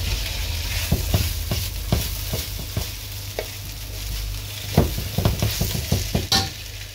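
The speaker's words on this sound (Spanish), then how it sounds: "Y no hay que parar de moverlo, si no se quema el pimentón." Paprika frying in a pan on low heat while being stirred, a soft continuous sizzle punctuated by regular scraping strokes of the utensil, close and clear with no talking.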